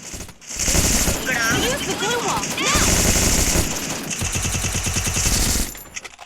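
Rapid automatic gunfire bursts rattle on and off in a shooting video game, loud and close, while players talk over the shots.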